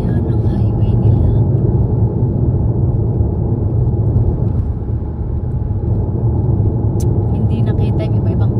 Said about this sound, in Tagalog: So yan ang highway nila.